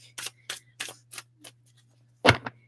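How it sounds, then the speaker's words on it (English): A standard size tarot deck is shuffled by hand, giving a run of soft, close riffling bursts at a steady rhythm, then a pause and one louder final snap, with no voices. "I'm just giving this a good old shuffle. It's a standard size tarot deck."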